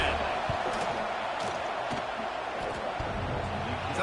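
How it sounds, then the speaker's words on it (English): Stadium crowd in an NCAA football video game, a steady broad roar filling the air as the field goal team lines up, sustained and fairly loud throughout with no break. "This crowd trying to do its part to get inside the kicker's head."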